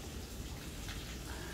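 Steady rain falling at a lodging near a campsite in Shitiping, Hualien, Taiwan, a dense even hiss of drops filling the scene with no voices.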